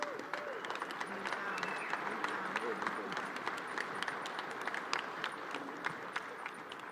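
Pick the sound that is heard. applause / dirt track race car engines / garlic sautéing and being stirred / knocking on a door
applause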